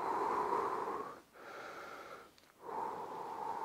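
Heavy breathing during a home workout exercise, a steady rush of breath with a short pause and a second pause near the end, fairly close and loud, with no talking.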